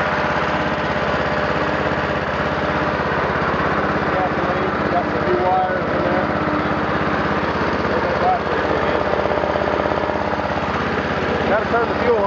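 A 14-horsepower Massey Ferguson 14 riding mower's engine runs at a steady, loud drone close by, with a constant buzzing vibration throughout.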